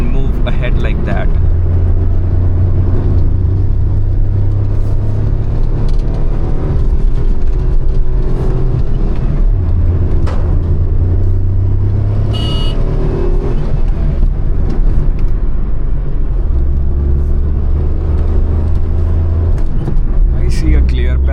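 A small hatchback drives on Himalayan mountain roads, its engine holding a loud, steady drone that rises and falls with gear changes, while a person talks over it.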